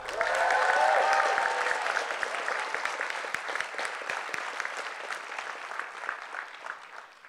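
An audience breaks into loud applause and cheering for the third place team Well Versed at a poetry slam, a brief whoop at the start, then sustained clapping that slowly thins out.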